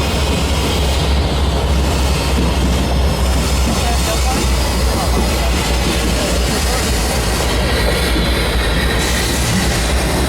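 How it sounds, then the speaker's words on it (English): A loaded BNSF grain train rolls out of the Auburn yard toward Stampede Pass, a loud continuous rumble of wheels and cars with a deep low drone, steady throughout and close by. "we saw that a grain train was leaving the yard for Stampede Pass"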